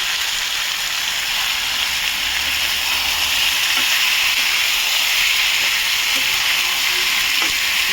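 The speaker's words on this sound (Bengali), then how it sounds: "ভালো করে এটাকে নাড়াচাড়া করবো, শুধু নাড়াচাড়া করে ফিরছি।" Mutton frying in a pan gives a loud, continuous sizzle and hiss as it is stirred, with faint scrapes and taps under the steady frying noise.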